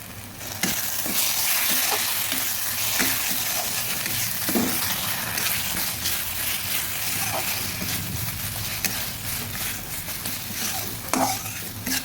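Cabbage paste with turmeric fries in a pan, a loud continuous sizzle broken by repeated scraping stirs of the spatula, close and busy throughout with no talking.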